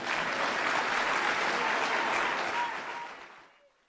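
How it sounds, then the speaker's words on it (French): Audience applause at a peace meeting in Vénissieux, a dense, steady clapping from a full hall that holds loud for about two and a half seconds, then fades away. "Applaudissez-le bien fort"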